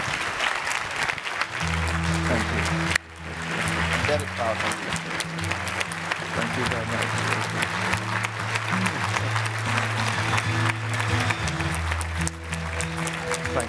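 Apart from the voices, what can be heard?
audience applause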